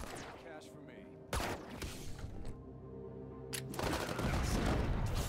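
Loud bursts of explosions and gunfire from the video game Wasteland 3 crash in, with a sudden boom and rumbling noise filling the end, over music.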